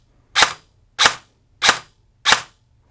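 An airsoft gun fitted with a programmable brushless motor fires semi-auto shots. Four crisp, evenly spaced pops ring out close and loud against near silence.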